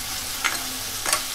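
Drumstick-leaf bhaji is stir-fried in oil, giving a loud, continuous close sizzle with two soft stirring scrapes as the greens are turned in the pan.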